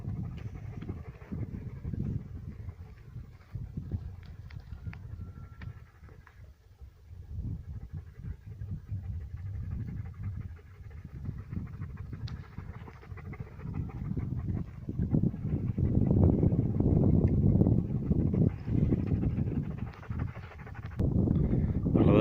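A hunting dog pants rapidly and steadily nearby, the breathing growing louder and heavier toward the end, with soft background noise.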